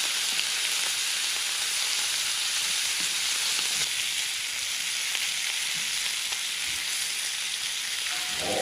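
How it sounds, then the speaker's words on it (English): Meat searing in a hot pan at a spring deer camp, a loud continuous sizzle and hiss that holds steady throughout, close up with no talking. "Get that seared."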